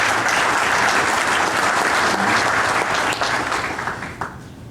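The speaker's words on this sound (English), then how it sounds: "So let's give him a big round of applause here before we get started." Dense audience applause at a conference gathering, loud and sustained before gradually thinning out near the end.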